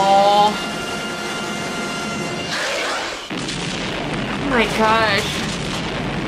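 A grenade blast from the 1986 film Aliens plays as a deep, heavy boom with rumbling aftermath, mixed with film shouting and a viewer's startled exclamation over it.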